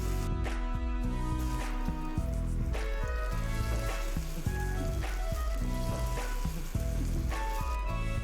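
Stuffed French toast bread rolls fry in a pan with a soft continuous sizzle, joined by faint rhythmic bubbling and occasional light clicks, close and alone without speech.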